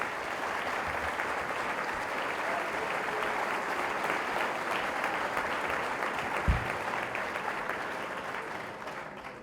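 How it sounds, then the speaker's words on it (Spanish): A hall audience at the Hotel Wellington applauds for several seconds, a dense, even patter of many hands with one louder thump partway through before the clapping fades out. "para que pida un aplauso"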